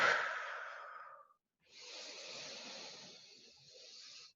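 Deep, audible breathing during a yoga class: a long exhale fading out, a short pause, then a steady sustained inhale, close and fairly quiet, with no talking.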